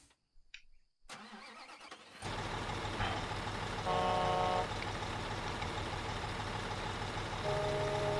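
A truck engine in Construction Simulator 2015 cranks over after a brief quiet spell, then settles into a steady, fairly loud idle and drive, with a beeping tone briefly rising above the running engine.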